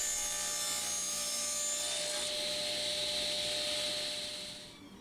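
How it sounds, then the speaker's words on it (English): Table saw blade making an angled bevel cut through plywood: a continuous high whining rasp with a steady motor tone, close and loud, shifting pitch midway and fading as the cut finishes. "let's put an angle cut on our plywood. We're going to bevel each side."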